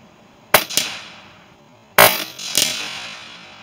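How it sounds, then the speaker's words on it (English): Two shots from an Umarex Gauntlet .25 PCP air rifle striking a pair of air freshener cans, each a sharp crack with a quick metallic impact following, spaced about a second and a half apart, with no talking. "let's go ahead and shoot the 2 air freshener cans now"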